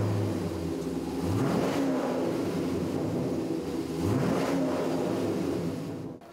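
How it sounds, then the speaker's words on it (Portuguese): A luxury Chevrolet Camaro pulls away, its engine revving loudly twice in rising sweeps at a car exhibition event, steady and close with no talk. "A largada foi dada pelo luxuoso carro modelo Camaro."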